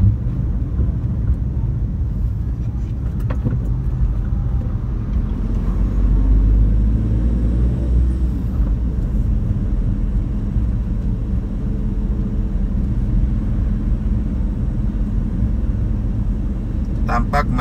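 Coal haulage trucks rumble along a road in Jambi, Indonesia, a steady, heavy low-frequency engine drone that continues at an even level throughout.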